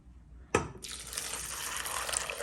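Four cups of boiled water are poured over kidney beans in a slow cooker, starting with a sharp splash and settling into a steady rushing pour that lasts a couple of seconds.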